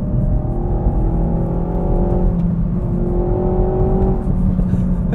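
A car engine runs steadily under load in the middle of its power band, a smooth droning hum with a rising whine that shifts pitch slightly, heard from inside the car.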